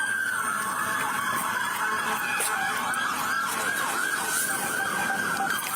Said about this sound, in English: You hear all the lights and sirens?